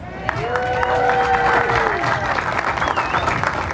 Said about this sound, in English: a big round of applause for your 2023 San Gennaro Feast Grand Marshal, Mr. John Tortorella